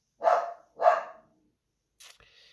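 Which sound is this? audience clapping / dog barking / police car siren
dog barking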